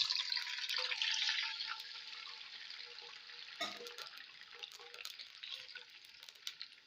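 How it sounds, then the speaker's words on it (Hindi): One cup of water poured into a hot pan of sweet vermicelli makes a soft hissing, sizzling rush that starts strong, then settles into a quieter bubbling simmer with faint clinks, fairly quiet overall. "अब इसमें हम शामिल करेंगे पानी।"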